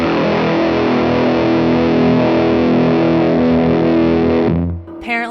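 A Mask Audio Germanium Part Garden fuzz pedal drives an electric guitar through a miked cab, with two knobs cranked for a loud, saturated, sustained fuzz tone. It rings steadily for about four and a half seconds, cuts off, then a brief new note starts.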